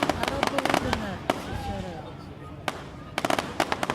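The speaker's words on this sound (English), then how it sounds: "You're talking about fireworks. Oh wow, a ghost shell. Still burning." Fireworks at a Delaware City show bursting overhead, including a lingering ghost shell, with sharp crackling pops clustered near the start and end and a quieter fizzing stretch between, as people talk and react nearby.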